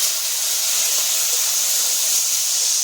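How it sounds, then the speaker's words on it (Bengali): Prawns fry in hot oil in a kadai (wok), giving a loud, continuous sizzling hiss that stays even throughout, with no talking. "এবার আমি চিংড়ি মাছটা ভেজে নেব।"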